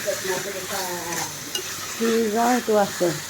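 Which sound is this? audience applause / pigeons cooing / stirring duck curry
stirring duck curry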